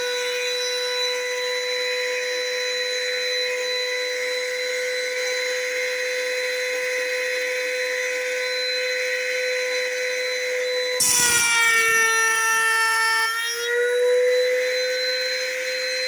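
Homemade side bar shaping machine jig cutting wood, a steady loud whining drone with harmonic hum running throughout, then a harsher burst of cutting noise near the end as the workpiece is engaged, no talking.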